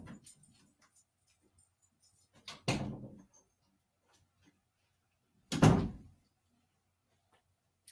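An indoor door moves twice, with a short rattling clunk near the start and a louder, fuller thud a few seconds later, each standing alone in a quiet room with faint small clicks between.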